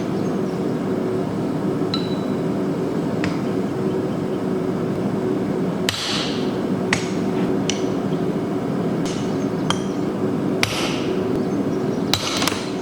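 A blacksmith's hammer strikes a chisel to cut teeth into a hand-forged steel skull, giving sharp metallic clinks. They come irregularly, about ten spaced blows over the second half, over a steady low forge hum.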